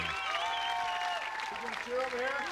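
Arena crowd applauding and cheering at an American Gladiators event, a steady wash of claps and voices that swells briefly near the end, with a voice calling out over it.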